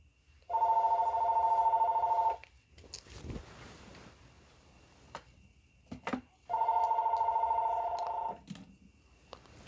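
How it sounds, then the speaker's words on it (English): A landline house phone rings indoors in two long, steady electronic trill bursts separated by a few seconds of quiet, clear and moderately loud. "you guys are just going to be hearing a house phone ring for a few moments until it stops"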